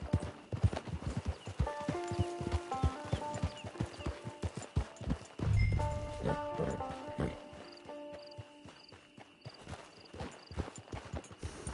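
Horse hooves clip-clop at a walking pace in Red Dead Redemption 2, rhythmic and close, arriving at a camp, with a brief low thud midway and soft background music tones.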